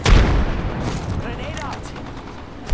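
A frag grenade in the video game Apex Legends is thrown and bursts with a loud, booming blast up front, the rumble trailing off into gunfire-like crackle and game noise for a few seconds.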